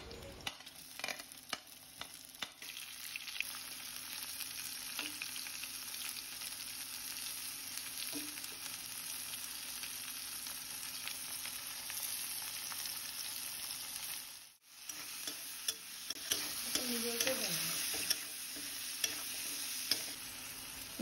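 Mixed vegetables stir-fry in a hot pan for home-style fried rice, giving a continuous bright sizzle with scraping stirs and a brief pause near the end.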